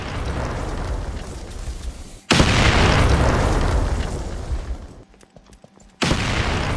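A grenade goes off in the video game Pirates vs Ninjas with a loud, close, booming blast that rumbles and fades away, then a second heavy burst follows near the end.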